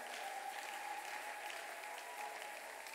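A church congregation applauds God, a steady, dense wash of many hands clapping together that keeps a constant level throughout.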